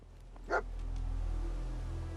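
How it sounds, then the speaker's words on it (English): Dogmeat, the dog companion in the video game Fallout 4, gives a single short bark over a low, steady game background hum. "There's the dog. Dog meat."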